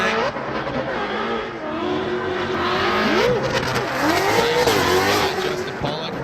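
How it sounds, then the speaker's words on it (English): A Roush Performance Ford Mustang drift car on Falcon Tires during 2018 Formula Drift qualifying at Monroe, Washington: a loud exhaust note rises and falls through repeated revs, with tire noise and echoing engine roar throughout. "The exhaust note just echoing through Monroe, Washington."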